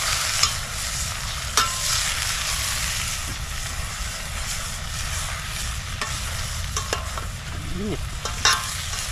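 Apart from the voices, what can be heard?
food frying and being stirred in a hot pan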